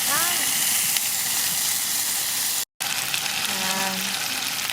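Kimchi sizzles in rendered pork fat at a campground, a steady broadband frying hiss filling the whole clip with a brief dropout midway, outdoors with faint background voices.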